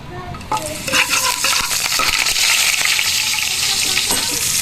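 Squid frying in oil and margarine, giving a loud, dense sizzle close by with occasional clinks and stirring scrapes throughout.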